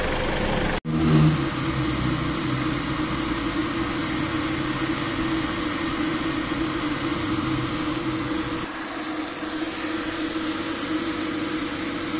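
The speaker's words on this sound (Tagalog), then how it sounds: "Patay natin yung makina." A Mitsubishi Pajero Gen 2 turbo engine runs with a steady mid-pitched drone, a sharp click and brief surge near the start, then the sound drops noticeably toward the end as the engine is switched off.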